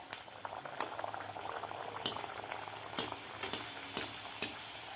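A masala puri fries in hot oil, crackling and bubbling continuously at low volume with scattered sharp pops and spits through the clip, heard alone without voices.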